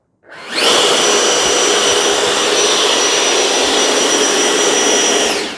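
An 80mm electric ducted fan in an E-flite F-16 Falcon RC jet spooling up on throttle to a loud, steady, close whine with a rushing air roar, held for several seconds and then beginning to wind down.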